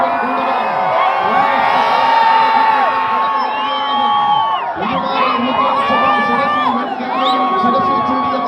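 A large crowd cheers at the Ithithanam Gajamela elephant festival, a loud, continuous roar of whoops, shouts and yells layered with high children's cries, surging and dipping briefly partway through.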